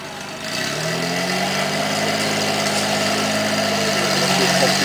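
A steady, low Unimog truck engine idle rumbles throughout at a truck trial event, with a constant mechanical vibration and no change in pace.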